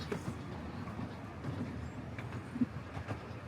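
A steam train rumbles steadily along the tracks from inside a carriage, a low continuous drone with faint clicks and rattles.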